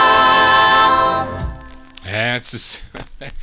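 A 1950s doo-wop vocal group record, a 1956 release on Deluxe Records, plays its sustained harmonized ending, fading out before a voice starts talking over it.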